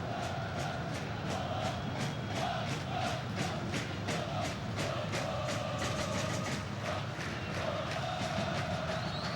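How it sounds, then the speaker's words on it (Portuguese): Vasco football supporters fill a stadium with steady crowd noise during a Carioca 2013 match against Fluminense, a continuous roar with rhythmic chanting pulses throughout. "A torcida do Vasco está mais animada no segundo tempo"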